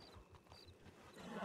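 Horse hooves clip-clop at a steady walking pace on a mount in Red Dead Redemption (RedM) roleplay set in 1920, faint and soft, with a low rumbling background.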